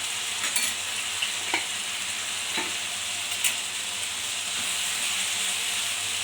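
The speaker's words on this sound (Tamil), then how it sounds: "நல்லா தக்காளி வெங்காயம் கத்திரிக்காயெல்லாம் நல்லா எண்ணெய் வேண்டி வதக்கி விடுங்க." Tomato, onion and brinjal sauté in oil with chili powder, coriander powder and turmeric, giving a steady close sizzle with faint stirring clicks throughout and no voices.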